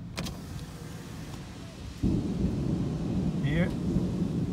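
Thunder rumbles low and broad through a rainstorm at an outdoor farmers market, growing louder partway through, with steady rain noise underneath and a brief faint squeak near the end.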